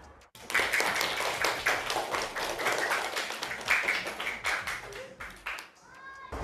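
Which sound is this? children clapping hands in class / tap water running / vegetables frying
children clapping hands in class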